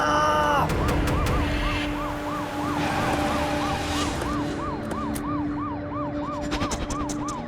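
A loud emergency siren wails in rapid, repeated rising-and-falling cycles, close and continuous, with traffic noise beneath it.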